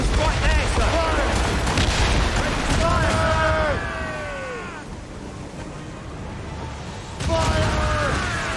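Ship cannons in Assassin's Creed Rogue firing in booming volleys, loud and close, under shouted voices and game music, with a quieter gap before another burst near the end.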